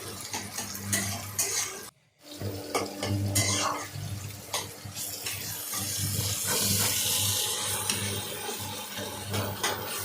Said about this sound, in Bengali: ভালো করে নাড়াচাড়া করতে করতে হবে